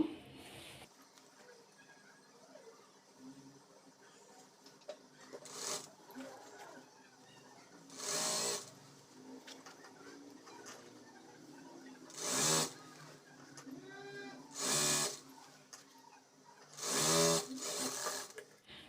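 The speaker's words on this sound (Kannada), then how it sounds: "ಇಲ್ಲಿ ಡಬಲ್ ಫೋಲ್ಡ್ ಮಾಡಿಕೊಂಡು ಈ ರೀತಿ ಸ್ಟಿಚ್ ಮಾಡ್ಕೋಬೇಕು" A sewing machine stitches a double-folded sleeve hem on a nighty, running steadily and close in several short bursts, with quieter pauses and handling of the fabric between them.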